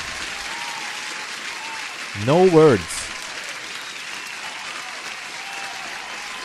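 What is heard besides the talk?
applause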